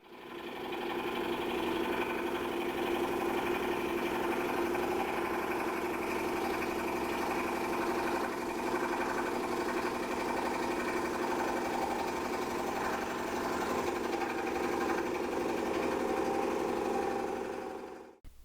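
A home-built CNC scroll saw cuts several wooden pieces in one run, its motor and reciprocating blade making a steady, loud mechanical whir and buzz that holds evenly throughout with no talking.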